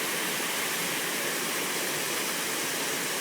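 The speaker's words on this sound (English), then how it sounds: "Just popped out of the bush to see a cool little river just flowing out to the ocean." A river flows out to the sea along a coastal bush track, heard as a steady, broad rushing wash of water with no breaks and nothing else standing out.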